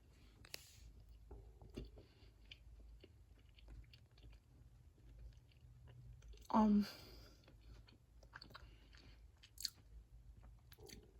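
Someone takes a bite of Cabot sharp cheddar cheese, with a single crisp bite and soft chewing close to the mouth over a low background hum and faint clicks.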